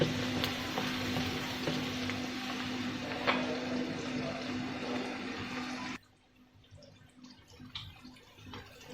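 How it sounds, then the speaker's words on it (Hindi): Ridge gourd with chana dal and chopped green chillies frying in a pan, a loud steady sizzle with occasional ticks that cuts off sharply partway through, leaving only quiet faint crackles. "और 1 मिनट के लिए इसकी थोड़ी सी भुनाई करेंगे।"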